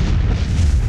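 Artillery fire in the desert map of the video game Minner's Mettle, a single dense, booming blast with a rumbling low body filling the whole moment, loud and close.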